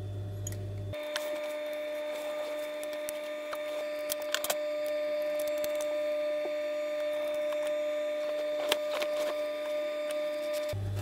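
A sewing machine winds thread onto its bobbin during a velvet sewing job, giving a steady, close mechanical whir that runs without pause for about ten seconds, with a few faint clicks along the way.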